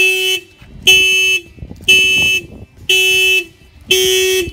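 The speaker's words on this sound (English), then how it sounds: "The alarm will fire off." An Acura NSX car alarm blares loudly in five regular, evenly spaced electronic pulses, each about half a second long with short gaps between.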